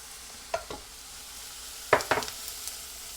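Garlic fries in a little oil in a pan over medium heat for Chinese garlic green beans, a soft low hiss broken by a few short bursts of sizzling as it is stirred.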